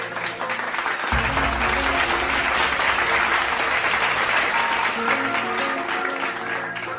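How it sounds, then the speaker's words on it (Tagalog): An audience claps throughout, a sustained burst of applause that starts abruptly after a second and stays dense and loud to the end. "Palakpak naman kayo dyan mga kabaro."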